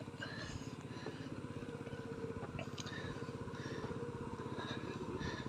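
A motorcycle engine putters steadily on a ride in Garut toward a village wedding, a faint, rhythmic low pulsing with no break.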